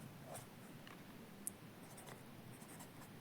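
Pen writing on paper during a class 10 math exam lesson, quiet scratchy strokes with a couple of sharper taps, faint and close against a soft background hiss.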